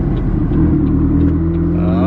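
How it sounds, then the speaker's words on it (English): BMW X7 SUV engine, a deep steady rumbling idle heard close up and loud for a couple of seconds, with faint voices nearby. "This X7 sounds surprisingly good."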